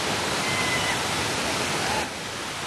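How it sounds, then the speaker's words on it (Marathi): Rautwadi waterfall near Kolhapur in the monsoon gives a steady, dense rushing roar of falling water that stays constant, then dips slightly in level near the end, with no voices. "आम्ही कोल्हापूरच्या जवळ असलेल्या या राऊतवाडी धबधब्यावर"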